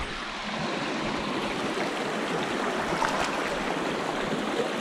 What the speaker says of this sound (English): Having to do a little river crossing here.